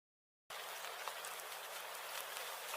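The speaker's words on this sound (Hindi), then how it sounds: "बारिश में भीगते हुए, कांपते बदन और सूजी हुई आंखों के साथ" Steady rain in a village setting, a dense, even hiss of falling water that starts abruptly and continues unbroken at moderate loudness with no voices.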